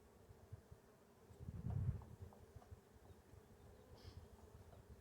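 A low, quiet buzz of honey bees at an open hive hums throughout, swelling briefly louder as if one passes close by.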